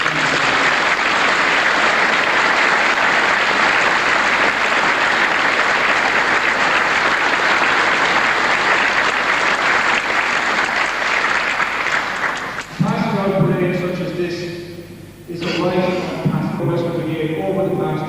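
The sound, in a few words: audience applause at a military parade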